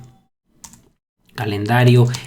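Quick light clicks of a computer keyboard tap out a short burst early on, then a voice begins speaking and covers the rest.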